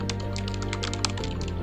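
Computer keyboard keys are pressed in rapid repeated taps, a clattering run of a dozen or more clicks close by over a steady low hum, with no talking.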